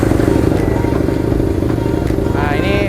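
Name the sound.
Husqvarna Nuda 900R motorcycle engine revving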